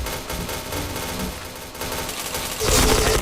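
Rapid bursts of gunfire from a video game shooter, loud and dense throughout, growing heavier near the end with no talk over it.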